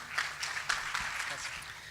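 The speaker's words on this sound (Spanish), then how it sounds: "Bueno, un aplauso a nuestro Sansón." Scattered applause from a small class group, fairly quiet and steady for about two seconds, with voices audible in the background.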